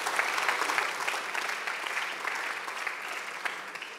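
An audience applauds after a speaker finishes at a German event on nursing care, giving steady clapping of fairly even strength that fades slightly toward the end.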